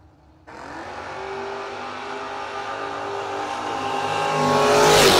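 A drag race car launches at a no-box drag racing event: a single engine bursts in abruptly and climbs in a rising, buzzing roar that grows louder toward the end, close and without talk.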